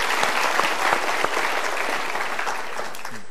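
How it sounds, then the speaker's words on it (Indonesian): Steady applause from a seminar audience, dense clapping that fills the room for several seconds at an even level, with no voices over it. "Kita berikan tepuk tangan dulu."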